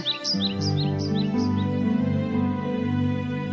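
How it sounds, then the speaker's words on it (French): A bird's high chirps repeat quickly in a short bright series over a sustained music bed in a Snow White fairy-tale telling, the tweets fading after the first second and a half. "elle vit un oiseau blessé sur le sol"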